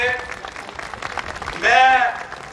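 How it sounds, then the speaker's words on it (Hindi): A crowd at a political welcome for a newly appointed leader in Jammu and Kashmir claps briefly while voices and shouts rise over the applause. "सारे लोग तालियां मार के स्वागत करेंगे।"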